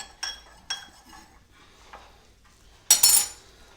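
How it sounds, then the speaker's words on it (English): Eggs and butter stirred into a cornbread dressing mixture: a few sharp clinks of a utensil against a bowl, soft scraping in between, then a louder rattling clatter near the end, close by with no talk. "And you just kind of stir it as you go."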